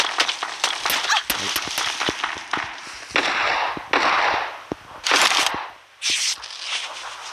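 PUBG Mobile gunfire comes through as a fast string of sharp cracking shots in bursts, close and loud, with brief pauses between volleys.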